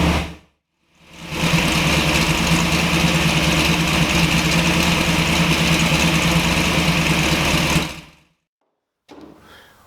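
Engine idling steadily while warming up to operating temperature, a loud continuous close-up drone with an even low rumble that starts after a short gap and cuts off abruptly near the end.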